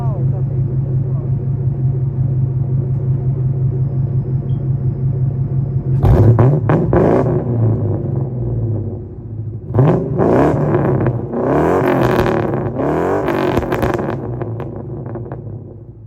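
A 1997 Ford Mustang GT with a 4.6-liter V8 idles with a low, steady rumble, then is revved in several sharp bursts that rise and fall, close and loud.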